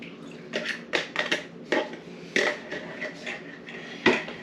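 Caramel apple muffin batter is stirred by hand in a bowl, giving a series of close, uneven scrapes and soft knocks against the sides with brief pauses between strokes.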